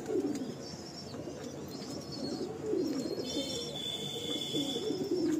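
Kalsira pigeons in a home loft coo in low, steady, overlapping calls throughout, with faint chirps above and a brief high whistle near the end, all fairly close.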